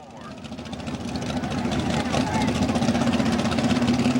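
A Chevrolet mud bog truck engine rumbles at the start line of a 1995 Plymouth mud bog event, a loud, throbbing, revving drone that builds gradually, while an announcer speaks over it.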